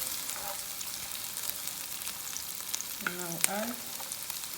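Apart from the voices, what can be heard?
red pepper added to onion sizzling in frying pan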